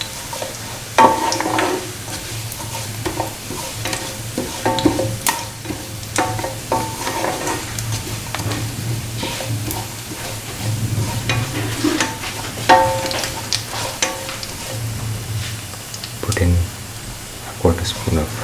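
Ginger, garlic and mustard are stirred in a hot pan as they fry, giving a steady sizzle with repeated scraping stirs, close and fairly loud.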